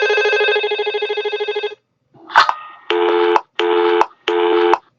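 In an educational chemistry game, a steady electronic ringback tone is followed by a click and then three evenly spaced synthetic telephone dialing beeps, loud and clean with short gaps between them.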